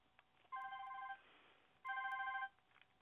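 Telephone ringing tone on a phone call line: two evenly spaced, buzzy ring bursts of about half a second each, separated by a short pause, with faint line noise between.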